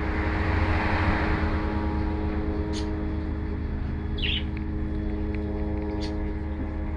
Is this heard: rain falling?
no